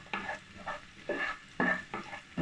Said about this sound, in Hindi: हल्का सा इसको हमने फ्राई करना है, बहुत ज़्यादा नहीं